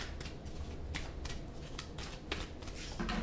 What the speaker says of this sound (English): let's shuffle the deck a little bit just to clear the energy out